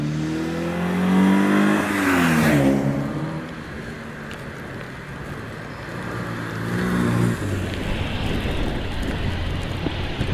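Riley 1.5 saloon racing up the Doune hillclimb course, its engine note rising and falling as it revs hard through the gears, fairly close, with wind buffeting the microphone throughout.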